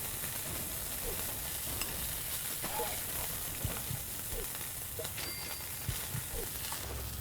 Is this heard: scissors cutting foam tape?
no